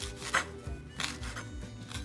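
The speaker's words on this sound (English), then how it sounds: "It's just kind of roughly chopping the fresh basil." A knife chops fresh basil roughly on a cutting board, giving a quick run of crisp, uneven thuds and taps, near and clear, with no voices.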